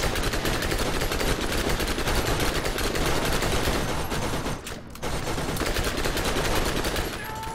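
Two turrets firing together in the Borderlands video game, a continuous rapid machine-gun barrage that runs loud and dense throughout, with one brief break near the end.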